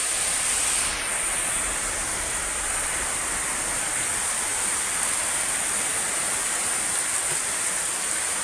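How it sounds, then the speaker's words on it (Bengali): A storm with strong wind and rain in Barisal, Pirojpur district, heard as a steady broad roar of rain and wind, loud and unbroken throughout. "আমাদের বরিশাল অঞ্চলে ঝড় চলতে আছে।"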